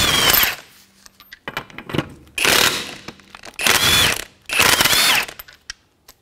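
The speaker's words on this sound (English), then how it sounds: "to remove the wheel, we're going to use a 22mm socket on an impact" A pneumatic impact wrench fitted with a 22mm socket spins lug nuts off the rear wheel of a 2008 Acura MDX, firing four loud, close hammering bursts of roughly a second each, with short quiet gaps between them.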